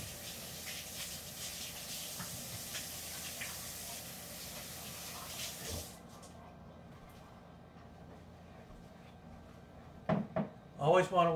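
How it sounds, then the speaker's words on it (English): Tap water runs hard into a kitchen sink for about six seconds while hands are washed after handling raw meat, then cuts off, followed by a few clunks and handling noises. "Let me wash my hands here."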